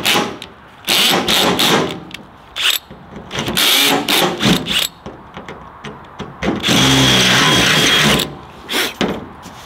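An electric drill bores holes in metal held in a vise while building a pressure washing trailer, giving loud whirring bursts that start and stop repeatedly, then one longer sustained grind, close by.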